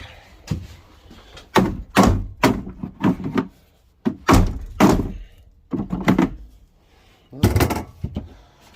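Repeated hammer blows on an old Aqua Magic RV toilet during removal, heavy dull thunks in uneven clusters, close and loud, with short pauses between volleys.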